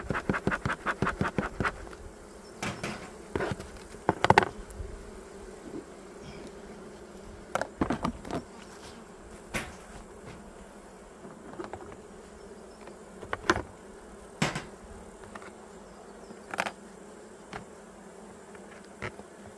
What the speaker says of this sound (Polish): Pszczoły dostaną zaraz swoją dawkę syropu,